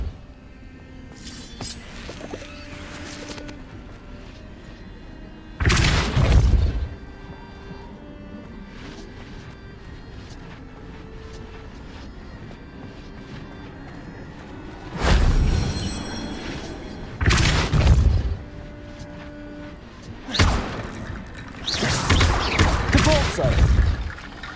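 Depulso spell casts in Hogwarts Legacy land as several loud whooshing blasts and thuds, bursting out of a quieter backdrop of game ambience and scattered clatter, with short pauses between the casts.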